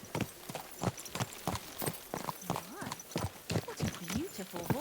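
A horse in the medieval game Kingdom Come Deliverance 2 clip-clops along at a steady walking rhythm, hooves striking close and crisp, with a few soft whinnies and a voice speaking over part of it.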